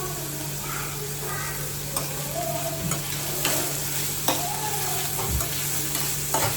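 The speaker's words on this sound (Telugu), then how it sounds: "రాజ్మా వేసాను, కొంచెం టమాటాలు కూడా వేస్తున్నానండి." Rajma and tomatoes frying in a pan, a steady sizzle with intermittent spatula scrapes and stirring clatter close by, under a low hum.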